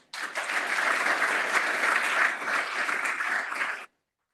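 Audience applause at a tech policy conference fireside chat, a dense, steady burst of clapping from a crowd lasting several seconds before cutting off abruptly, with no voices over it.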